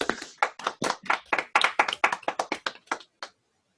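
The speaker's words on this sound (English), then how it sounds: "Let's briefly first unmute ourselves and applaud for Sarah for a very nice talk." A small group of people clap for several seconds after a talk, the rhythm uneven and fairly close, with no speech over it before it stops abruptly.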